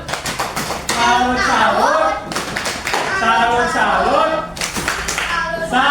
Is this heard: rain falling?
no